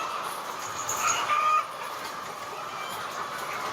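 Chickens cluck and murmur continuously inside an egg barn, a dense flock chatter with no single bird standing out, steady and moderately close throughout.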